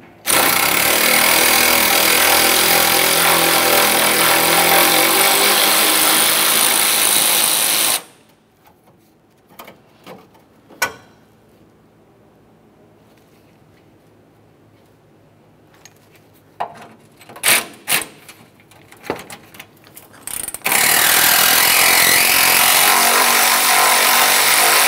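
A power tool backs out 10 mm bolts on a 2004-2006 Scion xB radiator: a long loud whirring burst, a quiet stretch of clicks and light clatter, then another sustained whir.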